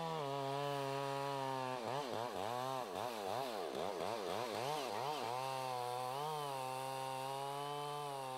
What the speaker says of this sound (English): The faller scribes around the tree to maintain a level backcut.